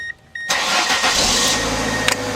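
A 1994 Ford Escort with a newly replaced ignition switch catches after a brief click and short crank, then settles into a loud, steady idle close by.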